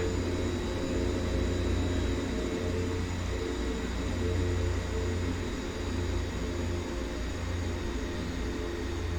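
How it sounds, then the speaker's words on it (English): A DHC-6 Twin Otter turboprop in the X-Plane 11 flight simulator, parked during engine shutdown, gives a steady, fairly loud broadband drone with a low rumble that holds evenly throughout, with no clear wind-down. "And get the engine shut down."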